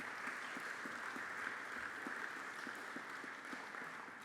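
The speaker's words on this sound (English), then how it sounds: "another round of applause for the blessing of that music" A crowd applauds after a musical performance, a steady, distant wash of many hands clapping, faint and even throughout with no voices.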